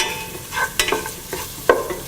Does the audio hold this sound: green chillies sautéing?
yes